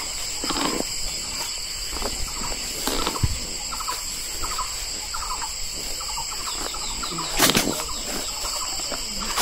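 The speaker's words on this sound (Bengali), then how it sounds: "এখান থেকে কিন্তু পাখির খুব ডাক শোনা যাচ্ছে" Birds calling in the forest of Manas National Park, repeated clucking and gobbling fowl-like calls over an outdoor background, with one louder burst near the end.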